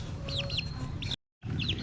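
Chicks cheeping during a chick-sexing session, repeated high rising peeps close by over a steady barn hum, briefly cut to silence, with no talking.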